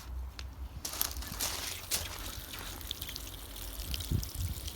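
Water pours steadily from a fine-rose watering can onto bare-root David Austin roses in patio pots, a soft continuous trickle and splash close by, with no talking.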